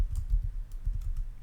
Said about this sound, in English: you would hit enter and you would begin typing the dialogue